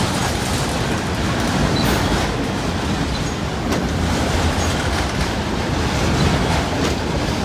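A freight train rumbles steadily past up close, a loaded autorack consist giving a broad, even roar with no break over several seconds and no voices.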